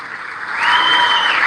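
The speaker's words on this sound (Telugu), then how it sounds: "గట్టిగా చప్పట్లు కొట్టి అభినందించండి" A crowd at a government event claps in appreciation for the resurvey and revenue department team, dense applause that swells louder after a moment and holds steady, close and filling.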